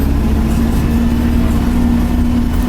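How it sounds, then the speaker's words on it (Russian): A heavy tractor engine drones steadily at close range, a low, continuous rumble with a constant hum and no talking. "В общем, я уже слышу, там едет трактор."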